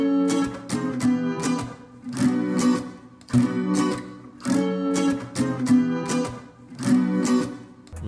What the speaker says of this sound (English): I also went ahead and recorded an acoustic guitar just to thicken up the overall guitar